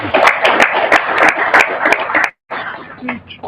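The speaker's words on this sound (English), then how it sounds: "So, big round of applause, please." A room of attendees at a water conservation board meeting gives a round of applause, dense sharp claps close by for about two seconds, then a short gap before thinner clapping and murmuring resume.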